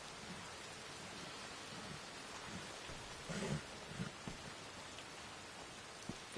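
Rain falls steadily in the video game Red Dead Redemption 2, a quiet constant hiss with a faint low rumble of thunder midway.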